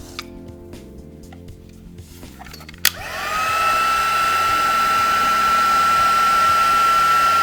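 A heat tool switches on with a click and quickly rises to a steady loud whine and blowing hiss as it heats inks on a mixed media card, after a few quiet taps and handling sounds.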